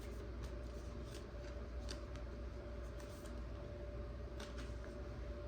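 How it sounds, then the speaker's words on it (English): Steady papery riffling of tarot cards being shuffled, continuous and fairly quiet with soft flicks throughout, no voices. "I'm gonna shuffle it one more time here."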